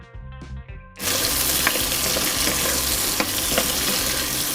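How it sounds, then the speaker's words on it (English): Onions sauté in olive oil in a hot pan, a loud continuous sizzle that bursts in suddenly and holds steady, with light clicks of stirring. "So we got our onions sauteing."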